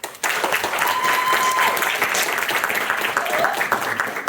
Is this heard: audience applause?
yes